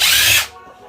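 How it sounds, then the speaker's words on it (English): A power drill whines loudly and briefly on scrap electronics, a short close burst that cuts off abruptly and leaves a quiet tail. "Might be able to use the drill on this one."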